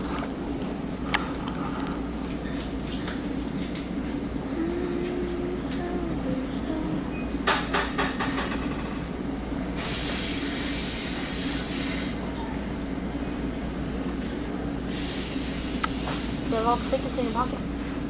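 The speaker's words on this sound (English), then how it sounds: "this is the main line train" A main line commuter train rolls along on the way to Radburn Fair Lawn, with a constant low rumble and rattle of the cars, bursts of squealing wheels and clattering, and people talking over it.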